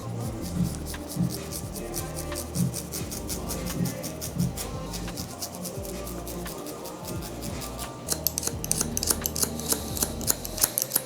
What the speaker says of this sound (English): I'm gonna connect everything with my feather razor